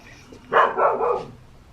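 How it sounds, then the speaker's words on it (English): Dog giving a single short bark near a house by a bus stop, close and fairly loud against a quiet background. "That's not bus. That's a bark."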